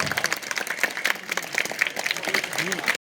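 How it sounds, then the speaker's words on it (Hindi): Applause rings out at a school science seminar as students are honoured, moderately loud clapping mixed with some voices, ending abruptly. "जोरदार तालियों के साथ"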